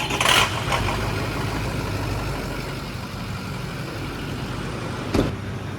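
An old Ford 6.0 diesel pickup with 250k miles, used to haul an injector cup truck setup, is heard near and loud: a brief start burst, then a steady rough idle rumble and a second clunk near the end.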